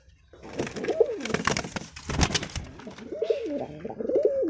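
Pigeons coo in repeated rolling phrases, close and fairly loud, with several overlapping calls and a few louder bursts of pigeon activity between them.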